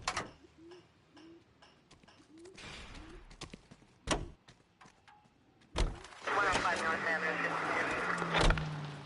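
A car being driven in the video game L.A. Noire: scattered clicks and knocks at first, then a louder, steady engine-and-road rumble with indistinct voices over the last few seconds.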